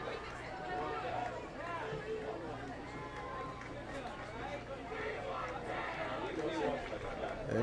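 A home crowd at a Friday night high school football game between Pascack Hills and Westwood late in the fourth quarter keeps up a continuous, moderately distant cheering and chatter, with a commentator talking over it.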